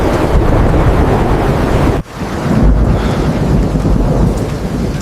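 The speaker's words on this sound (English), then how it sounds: "Listen to the water. It is very loud." Loud flood water rushes continuously around a farm barn, a dense roaring wash like heavy surf and rain, steady throughout with a brief dip partway through.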